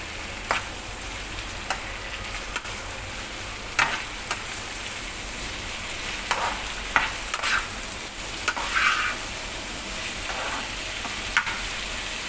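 Bok choy fries in a pan with a steady soft sizzle while a utensil stirs it, scraping and tapping now and then in close, irregular strokes.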